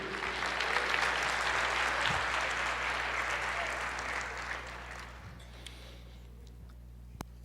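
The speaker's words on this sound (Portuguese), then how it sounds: "Aplauda o Senhor" A church congregation claps for several seconds during a sermon, the broad applause thinning and fading out to near quiet with a few stray claps and small clicks at the end.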